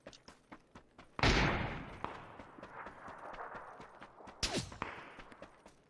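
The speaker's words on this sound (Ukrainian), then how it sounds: "По мені хтось стріляє інший" Gunfire in a video game: one loud, sharp shot rings out and decays into a rumbling tail, followed by lighter rapid clicks and another fainter blast, all heard fairly faintly with no talk.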